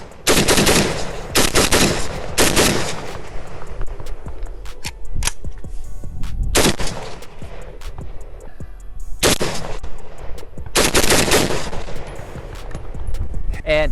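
Loud bursts of rifle fire from a Zastava ZPAP85 AK-pattern rifle, several rapid strings of shots separated by pauses, fired near and dominating the whole stretch.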